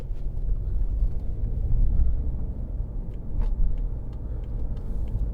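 Steady low road rumble from a 2012 BMW 520d SE diesel saloon on the move, heard from inside the cabin as continuous engine and tyre noise with faint clicks and no talking.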